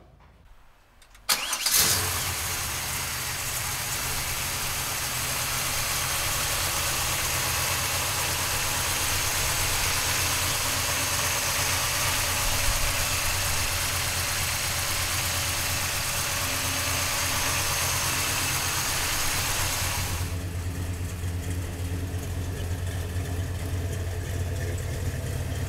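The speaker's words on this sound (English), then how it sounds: "let's fire this 502 up." A 1972 Chevrolet Chevelle with a ZZ502 engine cranks briefly and fires, then settles into a loud, steady rumbling idle that eases slightly toward the end, heard close with no talk.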